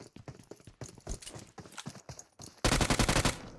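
Gunfire in the mobile game PUBG Mobile: muffled scattered shots give way to a loud, rapid automatic burst of evenly spaced cracks near the end.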